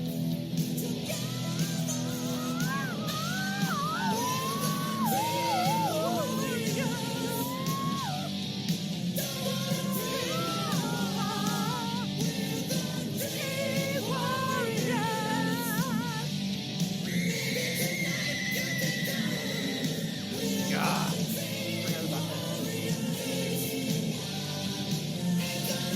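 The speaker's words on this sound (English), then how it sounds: "It's a screaming guitar solo." A screaming electric guitar solo in rock music wails and bends through sustained high notes over a full, steady band backing, loud and continuous throughout.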